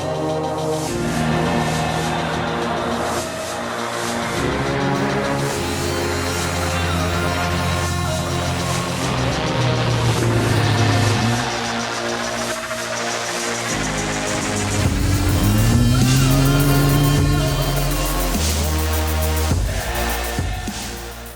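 Racing buggies, 4x4s and small SSV buggies drive at a 24-hour all-terrain endurance race. Loud, continuous engine roar fills the scene, with revs rising and falling in sweeping surges and no talking.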